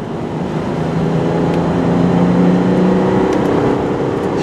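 A 1997 Isuzu Rodeo with frame rot being driven, its engine and road noise forming a steady low hum from inside the cab, smooth and even with no talk.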